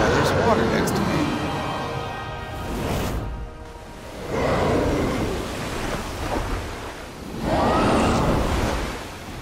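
Leviathan's water summon in Final Fantasy XV crashes in repeated surging waves, loud roaring whooshes that swell and recede in three broad pulses, with a voice talking over parts of it.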